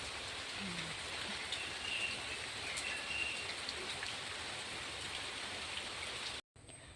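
Steady, dense rainfall pours down without a break, a broad constant hiss, then cuts out abruptly for a moment near the end.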